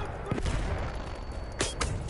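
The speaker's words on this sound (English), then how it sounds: "I think this might be like a light machine gun or something" A light machine gun firing in Battlefield 1, rapid sharp shots in two short bursts over a busy battlefield rumble, close and loud.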